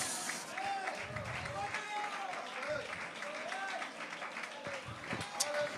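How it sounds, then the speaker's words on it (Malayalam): Congregation at a church sermon by a pastor claps steadily in a sustained burst while a voice speaks loudly over the applause throughout. "നിങ്ങൾ കൈയടിക്കുന്നതിന് എനിക്ക് ഒത്തിരി സന്തോഷമുണ്ട്"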